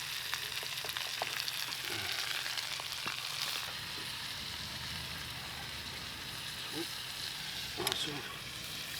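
Pepper bacon frying in a pan at a lakeside camp during a kayaking trip on Priest Lake, giving a steady close sizzle and crackle throughout with occasional stirring clinks and a voice speaking over it.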